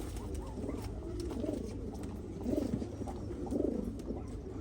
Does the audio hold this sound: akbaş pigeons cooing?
yes